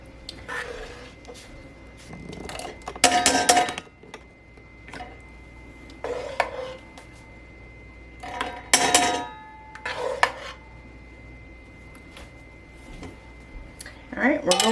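Glass jars clink and a utensil scrapes while watermelon rind preserves are ladled into them, with intermittent bright clatters and knocks spaced across the span over a quiet kitchen background.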